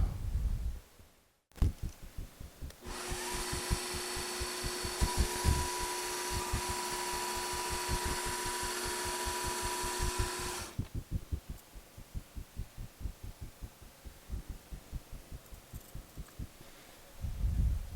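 A cheap Chinese mini lathe taking light turning cuts: a steady motor whine with a rapid rhythmic thumping, the tone rising into a bright sustained cutting hum for several seconds before dropping back to the pulsing idle.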